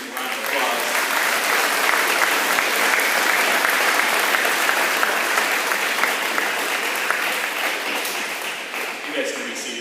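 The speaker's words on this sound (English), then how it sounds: "And crowd, let's give these seniors a round of applause." A crowd at a spring athletic awards ceremony gives a round of applause for the seniors, loud, dense clapping that holds steady for several seconds, with voices and a few cheers mixed in.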